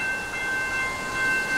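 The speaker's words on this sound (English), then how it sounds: "Another train." Train passing in Seattle, a steady rumbling roar with bright sustained wheel squeal or tonal whine on top, close and loud throughout with no talk.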